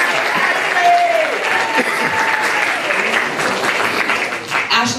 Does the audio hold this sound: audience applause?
yes